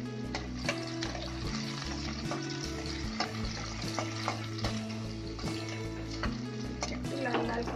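Onions fry in refined oil, giving a dense steady sizzle with frequent crackles and spoon knocks, while a low humming tone runs underneath throughout.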